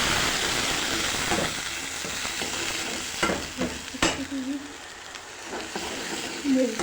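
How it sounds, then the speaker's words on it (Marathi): Chopped onion and tomato stirred into hot oil in a home kitchen, giving a steady broadband sizzle with scraping stirs and a few louder spatters, close up and continuous with no talk. "तेल कडलेलं आहे, याच्यात मी घालते आता का आणि टमाटर दोघी सोबत आहे."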